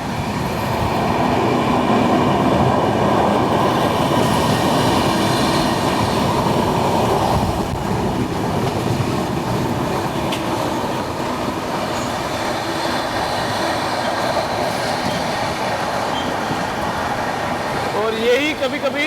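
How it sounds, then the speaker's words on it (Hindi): A freight train rolls past close by on a Indian railway line, a continuous loud rumble of wagons and wheels with faint rhythmic clatter throughout. "ये तो फ्रेट है।"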